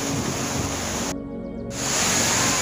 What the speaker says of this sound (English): So that's the full view of the waterfalls behind me.